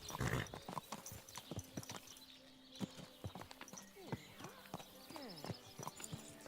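Horse hooves clip-clop in a video game, a run of sharp, close hoofbeats in quick uneven rhythm, with a voice talking over parts of it.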